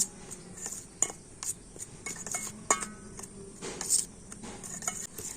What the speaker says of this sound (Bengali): হলুদ আর লবণ দিয়ে আটাটা খুব ভালো করে একটু মিশিয়ে নেব